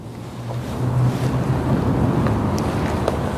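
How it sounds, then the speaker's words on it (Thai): River water in St Petersburg, Russia, churns and washes with steady wind buffeting the microphone, a broad continuous roar throughout with no talk. "นี่แม่น้ำนะไม่ใช่ทะเล"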